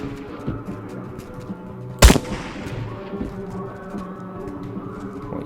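A single sharp gunshot cracks out in the Trans-Siberian Railway Simulator video game during a nightclub shoot-out, loud and sudden with a short ringing tail, set against low background game ambience.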